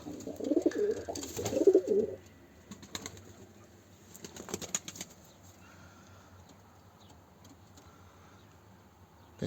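Pigeons coo softly nearby in an enclosed pigeon loft, with a brief flutter of wings and faint scuffling, then quieter rustling.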